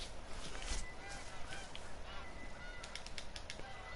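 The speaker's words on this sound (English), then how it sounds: "And there goes a pheasant over here." A pheasant calls with short honking cries in the hunting game theHunter: Call of the Wild, on the Hirschfelden reserve. The calls sit within a dense, steady wash of outdoor ambience.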